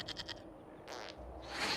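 Goat bleating in Dragon Age Inquisition: a short, faint game bleat with a couple of quick pulses at the start, then a brief bleat in the middle and another rising at the end.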